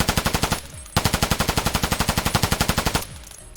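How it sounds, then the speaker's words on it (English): Two long bursts of automatic rifle fire from Escape From Tarkov hammer out as evenly spaced, loud, close shots, the first brief and the second running about two seconds before stopping, with no voices. "I'm going to show you the recoil now."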